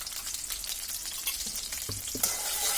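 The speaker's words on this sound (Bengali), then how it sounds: "আমরা এখন এর মধ্যে পেঁয়াজ কুচিগুলো দিয়ে দিব প্রথমে, আর কাঁচামরিচ কুচি দুটো একসাথেই দেব।" Chopped onions and green chilies frying in hot oil for motorshuti ghugni, a steady dense sizzle with a few utensil knocks, the hiss swelling louder near the end, with no one speaking.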